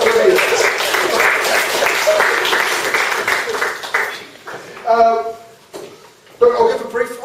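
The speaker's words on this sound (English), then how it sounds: "I think it's worth a round of applause" An audience at a graduate day session gives a round of applause, steady clapping for about four seconds that fades out before a voice starts talking in short bursts.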